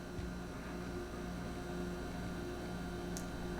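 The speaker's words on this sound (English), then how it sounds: "here's the sound of the compressor from about 18 inches away from the front of the fridge" Steady low hum of a refrigerator compressor running, heard from about 18 inches in front of the fridge, a quiet continuous drone with faint tonal lines and no other sounds.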